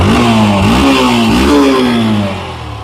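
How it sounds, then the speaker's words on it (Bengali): A ten-year-old Yamaha Fazer V2 motorcycle running close by, its engine note rising and falling through several throttle blips before settling toward idle, loud and alone with no talk. "বাইকের যদি স্টার্ট করে সাউন্ডটা দেখাই, দেখেন খুবই সুন্দর।"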